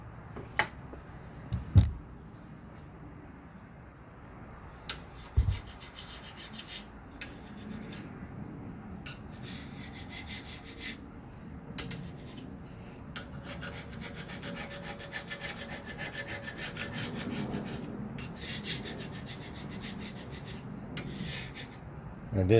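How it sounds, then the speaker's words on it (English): A dull chisel scrapes super glue spatter off a metal lathe, a steady rasping rub with a few sharper scraping strokes, close and continuous for the whole stretch, no voices. "take a dull chisel and scrape off some of that super glue spatter"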